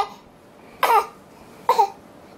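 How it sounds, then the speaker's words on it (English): Two short, breathy fake coughs from a child a second apart, close by, sounding deliberate and playful rather than real, with quiet room tone between them. "Faker. Faker cough."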